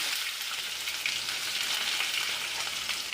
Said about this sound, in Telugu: కరివేపాకు, దానికి ఆయిల్, ముందుగా సరసాలు, జీలకర్ర వేరు కదా, వెల్లుల్లి రబ్బలు, ఇప్పుడు ఉల్లిపాయలు